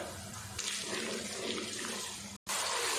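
Water splashes into a pan of frying masala with turmeric, chili, coriander and cumin for egg korma, a steady close rush of pouring and sizzling that runs for a few seconds and cuts off briefly near the end.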